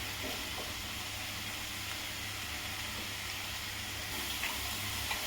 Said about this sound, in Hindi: थोड़ा मसाला फट रहा है, गैस को मैं स्लो कर दी हूँ